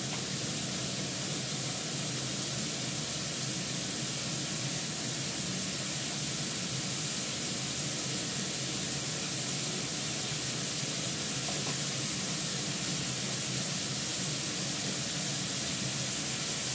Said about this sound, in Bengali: আস্তে আস্তে তেলটা বেরিয়ে আসছে, ফোড়নে দেবো জিরে